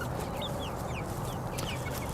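Hens in a chicken tractor on a front lawn cluck softly and repeatedly over a steady outdoor hum, several birds close together.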